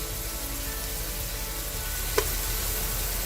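Thinly sliced tender beef browning in a pan over high heat gives a steady, close sizzle and hiss throughout, with one brief sharp pop partway through and no talking.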